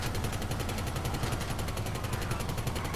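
Twin miniguns blazing from a weaponised Tampa in GTA 5: a dense, unbroken buzz of rapid fire that stays loud and steady from start to finish, with no voices over it.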